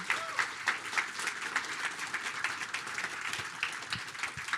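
Applause from the audience at the opening ceremony of a Netrunner World Championship event, a continuous wash of many hands clapping, steady and moderately loud throughout.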